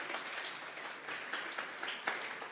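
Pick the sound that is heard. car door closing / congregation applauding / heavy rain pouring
congregation applauding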